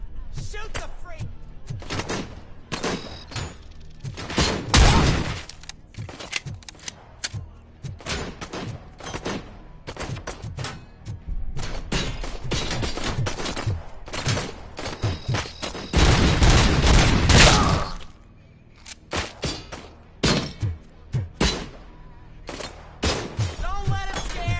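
Gunfire in the video game RoboCop: Rogue City, repeated loud sharp shots and bursts in irregular clusters with heavy volleys, some metallic impacts and occasional voices between them.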